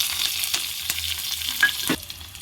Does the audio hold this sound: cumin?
yes